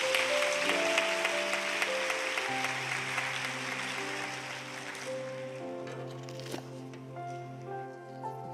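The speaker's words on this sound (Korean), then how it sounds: "자, 박수로 한번 뜨겁게 격려를 해 주십시오." A church congregation gives warm applause before a baptism testimony, a soft, even patter of many hands heard at a distance, fading slightly toward the end over sustained organ or keyboard tones.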